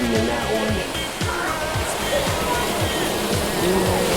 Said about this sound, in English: There's more than one waterfall inside of this mall.